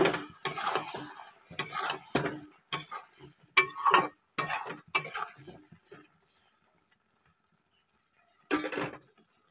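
A spoon scrapes and stirs aloo dum, a potato curry finished with shahi garam masala, in a pan. It makes a quick series of close, short scraping strokes for about six seconds, then a lull and one final scrape.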